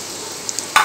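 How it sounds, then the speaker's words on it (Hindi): Sliced onions going into hot oil and ghee in a pan for besan gatte curry, a sudden loud sizzle bursting up near the end after a couple of faint clinks over a low background hiss. "हम इसमें अपने प्याज को डाल देंगे।"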